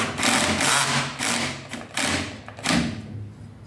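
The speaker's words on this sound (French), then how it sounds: "je vais appuyer sur ma visseuse" A cordless screwdriver drill drives a cable stripping machine, giving a loud, close whirring grind that pulses in several uneven bursts as it runs and slows.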